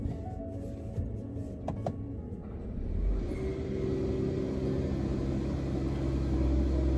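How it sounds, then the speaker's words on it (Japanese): A Mercedes-Benz CLS450 4MATIC starts without any starter crank: a quiet cabin with a few faint clicks, then a low engine rumble swells in and settles to a smooth, steady idle. "それでは早速エンジンをかけてみたいと思います。"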